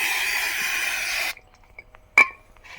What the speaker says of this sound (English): you spray it here with a little bit of brake cleaner